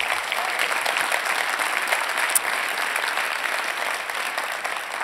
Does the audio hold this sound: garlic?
no